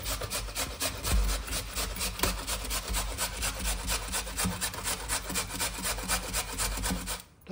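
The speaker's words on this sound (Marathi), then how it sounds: "त्याला खिसून घ्यायचा।" Pumpkin wedges, about half a kilo, rubbed against a kitchen grater, giving a steady run of rhythmic rasping strokes, close and fairly loud, continuing evenly for several seconds before stopping.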